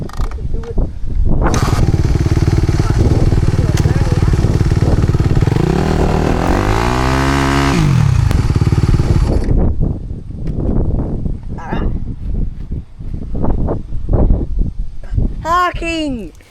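A Suzuki dirt bike engine revs loud and close, climbing and falling in pitch through several throttle blips before settling into choppier bursts, with a rider talking over it.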